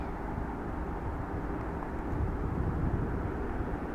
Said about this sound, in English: Airways Boeing 777 with GE90s rolling up for departure here momentarily